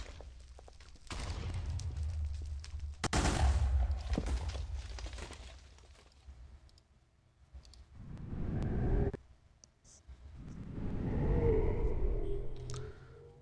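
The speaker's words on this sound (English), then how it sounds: "But I hear the explosions." Explosions in a Minecraft cave world boom in several loud bursts, one after another with brief lulls between them, each a rough blast that fades out.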